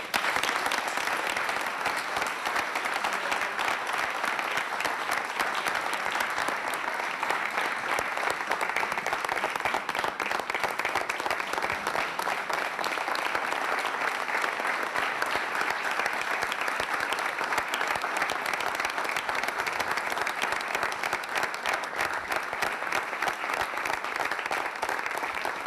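A studio audience on a Veneto regional news broadcast gives long, sustained applause in memory of two people, dense rapid clapping holding steady and loud throughout with no talk over it.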